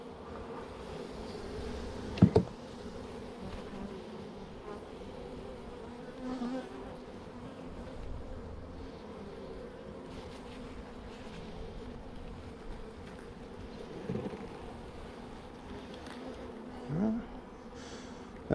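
A honeybee swarm buzzes steadily during a hive transfer outdoors, a low continuous drone of many bees with faint handling knocks and scrapes mixed in.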